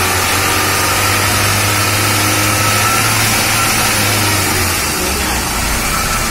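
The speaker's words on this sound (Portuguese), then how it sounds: "vai Sérgio, bota aí a terceira e chama. Bota 100 por hora e tira de marcha." An Audi A3 with a remapped engine pulls hard in third gear toward 100 km/h on a road test, a steady loud engine drone with road and wind roar throughout and a slight dip near the end.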